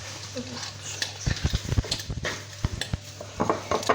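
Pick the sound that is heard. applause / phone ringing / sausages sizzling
sausages sizzling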